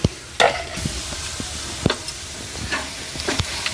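A spoon stirs ghee and water in a pan for a sweet kesari puri, making irregular scraping clinks against the metal over a soft sizzle, with no talking.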